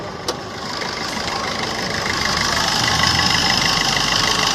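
A 2016 Maruti Swift VDI diesel engine idles steadily and close by for the whole stretch, with an even, continuous rumble and a brief tick near the start.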